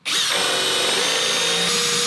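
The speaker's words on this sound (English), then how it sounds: "I'm going to go ahead and drill a hole." A power drill fitted with a beater bit bores a hole in decking wood. It gives one loud, close, continuous whirring grind that starts abruptly and holds steady for about two seconds.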